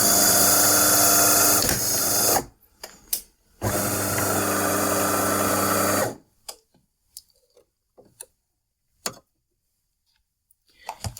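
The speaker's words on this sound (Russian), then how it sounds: "мне только сам принцип посмотреть, как работает кофемолка" A burr coffee grinder in a DeLonghi ESAM coffee machine runs in two loud, dense bursts of whirring grinding, separated by a short pause. Scattered faint clicks and taps follow once it stops.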